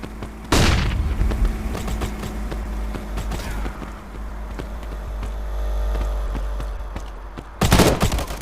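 A flashbang grenade goes off in the shooter game Modern Ops during a point-capture match at a construction site, giving a sharp loud blast near the start and another burst near the end over a steady rumbling game background.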